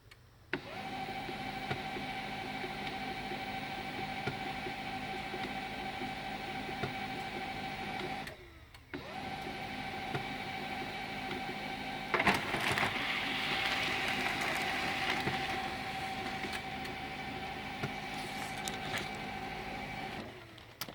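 A printer runs a toner transfer print onto paper, with a steady whirring mechanism and a short pause near the middle before the feed resumes, plus a brief rattling burst partway through.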